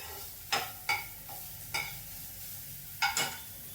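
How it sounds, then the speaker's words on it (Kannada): Onion, cumin and homemade ginger-garlic paste sautéing lightly in a pan, a soft steady sizzle broken by several sharp scraping stirs of a spatula, close and alone without talk. "ಇದಕ್ಕೆ ನಾನು ಈರುಳ್ಳಿ, ಜೀರಿಗೆ ಹಾಕ್ಕೊಂಡು, ಈರುಳ್ಳಿ, ಸ್ವಲ್ಪ ಜಿಂಜರ್ ಗಾರ್ಲಿಕ್ ಪೇಸ್ಟ್ ನಾನು ಮನೆಯಲ್ಲೇ ಮಾಡ್ಕೊಂಡಿರೋದು, ಇಷ್ಟನ್ನು ಹಾಕ್ಕೊಂಡು ಸ್ವಲ್ಪ ಹಾಗೆ ಲೈಟಾಗಿ ಬಾಡಿಸ್ಕೊತೀನಿ"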